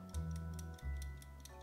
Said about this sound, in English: And I guess it does have an egg timer function as well.